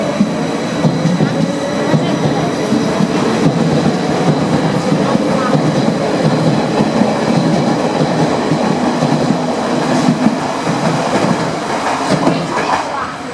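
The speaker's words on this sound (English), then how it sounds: "there's the train coming" A train rumbles loudly and steadily into an underground platform in Rome, with rhythmic clatter and a faint wheel squeal, echoing in the enclosed station.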